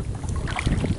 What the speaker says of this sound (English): Wind is kicking